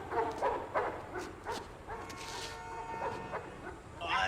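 A big dog, chained up some distance back, barks repeatedly during a police raid on a house, sending several short, moderately distant barks and whimpers with pauses between, with no talking over them.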